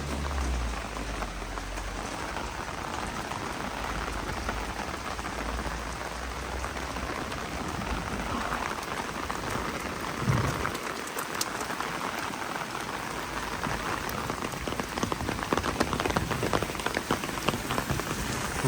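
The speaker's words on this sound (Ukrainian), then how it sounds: "Дощик так підсилюється не слабо" Steady rain falls on a Lviv street by a university building, a dense hiss of drops spattering pavement that stays close and constant and swells slightly heavier toward the end.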